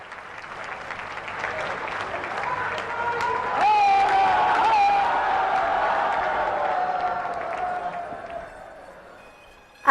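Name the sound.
audience applause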